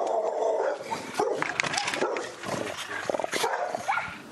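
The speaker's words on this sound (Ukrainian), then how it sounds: "Це ті самі собаки" Several dogs, the same pack that attacked people in a Ukrainian village, bark and yip repeatedly in overlapping bursts, fairly close and loud over outdoor background.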